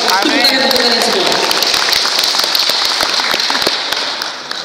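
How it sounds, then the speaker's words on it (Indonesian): Loud, dense applause from an audience at an alumni association gathering, a continuous roar of many hands, close and full, with a voice briefly heard at the start before the clapping fades slightly toward the end. "Tepuk tangan untuk kalian semua."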